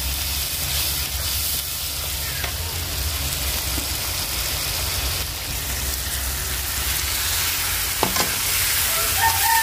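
Spices frying in a pan over a fiercely burning clay stove give a steady, close hiss of sizzling that runs unbroken throughout, with a few faint clinks and no voices.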